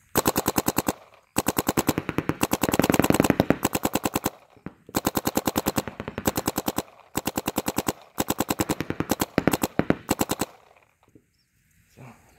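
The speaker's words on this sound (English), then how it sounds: "Gun shoots super smooth." Icon DM7 paintball marker firing in rapid, evenly spaced bursts, sharp close pops strung into several long strings separated by short pauses, loud and without talking.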